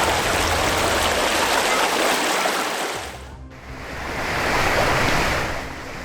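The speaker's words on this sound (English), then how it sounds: "a flash flood can arrive under a clear blue sky." Flash flood water rushes through the Negev desert, a loud, broad roar of churning water close by that dips briefly to a quieter lull midway and then swells back up.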